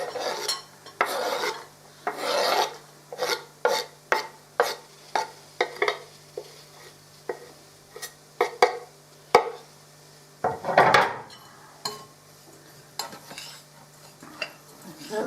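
Herbs being mixed by hand into a nut roast mixture, a run of irregular scraping and stirring strokes with occasional bumps against the bowl, close and clear, with no talking.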